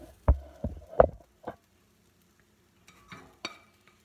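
Reconstituted whole egg crystals cooking as scrambled eggs in a pan, with a few scattered scrapes and taps of stirring, quiet between bursts and no steady sizzle.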